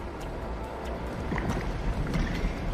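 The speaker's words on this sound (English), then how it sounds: "Activating pumps at maximum capacity." Cartoon energy pumps drain refinery tanks at maximum capacity with a steady, dense rushing whoosh of mechanical flow, swelling slightly louder midway and holding a constant broadband roar throughout.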